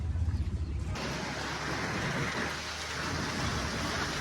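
Rain falling on a mountain road toward Kainchi Dham in Uttarakhand, a steady hiss with a deep thunder rumble rolling at the start before settling into a continuous downpour.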